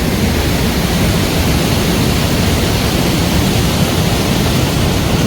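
A big Himalayan river rushes steadily, a dense, loud, unbroken roar of water heard up close with no voices.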